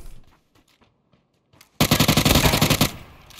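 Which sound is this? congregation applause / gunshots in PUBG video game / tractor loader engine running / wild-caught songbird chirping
gunshots in PUBG video game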